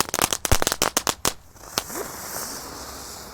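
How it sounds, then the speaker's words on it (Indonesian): A pack of three-colour spinning ground firecrackers (mercon gangsing), lit together with a Pratek Dino egg as the central fuse, bursts in a rapid string of sharp, loud cracks. The bangs then thin out into a fizzing, crackling hiss. "Di sini ada mercon gangsing super 3 warna. Kita nyalakan satu pak sekaligus"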